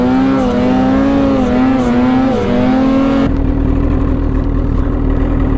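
A Polaris snowmobile fitted with a post-forward kit roars as it churns through deep powder snow. The loud, close engine drone holds a wavering pitch, then abruptly drops to a rougher, lower rumble.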